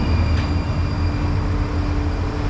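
An electric tram on a new transport line in China passing by, a steady loud rumbling drone with a faint high whine, continuous throughout and without speech.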